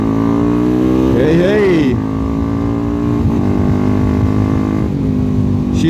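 Megelli 250r motorcycle engine revving hard up close, its pitch sweeping up and back down before settling into a steady loud drone, with a brief shout over it.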